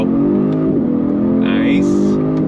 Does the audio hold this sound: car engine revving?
yes